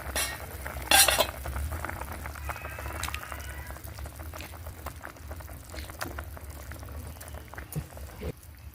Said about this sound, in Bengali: টকটা ফুটতে থাকুক, সবজিটা সুন্দরভাবে তাড়াতাড়ি সিদ্ধ হয়ে যাবে।